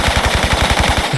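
MP5 submachine gun firing in Tomb Raider III Remastered, in the Antarctica Meteorite Cavern level, a loud close rapid burst of about ten evenly spaced shots in quick rhythm.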